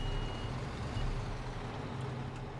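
A heavy truck engine idles with a low rumble in Construction Simulator 2015 while a faint, steady reversing beep sounds in the background.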